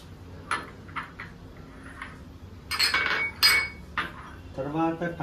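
Knife chopping tomatoes into small pieces one-handed in a home kitchen while making soybean curry, giving a few scattered clicks and clinks, with brief voices and clatter near the end.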